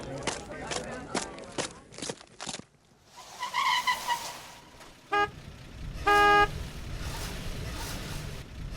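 An ambassador's car arriving on a street, with people talking, a scuffle of movement, a brief skid and two short horn honks amid traffic noise.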